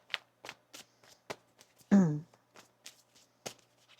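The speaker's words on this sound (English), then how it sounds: "One more shuffle here" Tarot cards are shuffled by hand, giving a series of soft, crisp riffling taps at an irregular rhythm, with a brief voice heard partway through.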